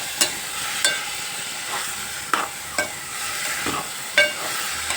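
Bitter gourd pieces stirred in a hot pan while the curry cooks: a constant close sizzle with half a dozen sharp scraping strokes of the spoon at irregular intervals.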